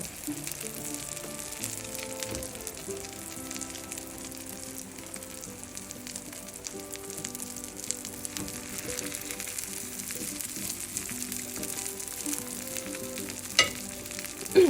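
A tomato, mushroom and egg omelette sizzles and fries steadily in a pan, a continuous crackling hiss throughout with a couple of small clinks near the end.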